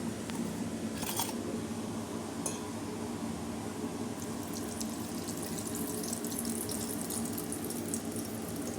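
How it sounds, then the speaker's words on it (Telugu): Heated ghee is poured back into a bowl while making Mysore pak. It gives a continuous liquid pouring sound, close and steady, with a few faint clinks early on. "ఇప్పుడు ఈ నెయ్యి ఇదే బౌల్లో వేసుకుందామండి"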